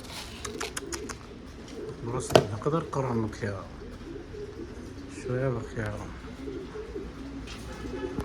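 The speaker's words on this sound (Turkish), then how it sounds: "Kuşlar hep orada tüneklendi." Low cooing from a group of doves perched in a coop carries on in the background while a person speaks, with a few sharp knocks and rustles mixed in.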